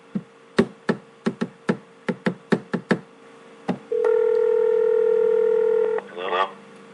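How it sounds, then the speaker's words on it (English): A run of about ten short, evenly spaced telephone keypad tones dialing a number, then a steady ringback tone holding for about two seconds, all loud and close with no talk. "Let me dial this number real quick."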